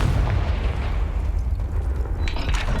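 A Confringo blasting spell explodes in the Hogwarts Legacy video game, a deep, loud, rumbling boom with a sustained low roar over about three seconds, no talk.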